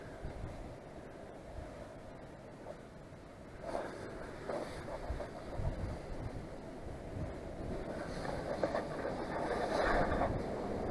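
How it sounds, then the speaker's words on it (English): Wind blowing outdoors at a gold prospecting wash plant, a faint, uneven rushing hiss that gusts and swells gradually louder toward the end, with no talking. "Boy, the wind's picking up. I can hear that."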